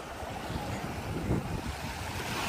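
Sea water and waves wash at Shek O Beach in a continuous broadband rush with steady surf noise and wind buffeting the microphone, no distinct individual breakers.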